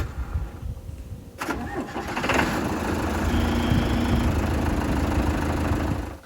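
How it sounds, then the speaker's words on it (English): A farm backhoe's engine cranks and catches with a sharp burst, then settles into a loud, steady, mid-pitched running drone that holds until it cuts off at the very end. "That is our backhoe!"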